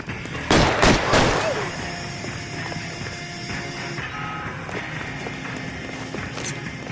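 Gunfire in a crime-investigation video game set in Los Angeles: a loud burst of several close shots early on, then a quieter stretch of ambient noise with faint mechanical tones and a voice in the background.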